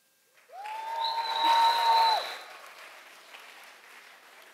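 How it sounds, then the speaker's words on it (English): A seminar audience breaks into applause and cheering, topped by a loud, drawn-out whistle that rises and then falls. The noise swells, peaks and fades to scattered clapping. "make some noise or clap or something if you're from Northern California"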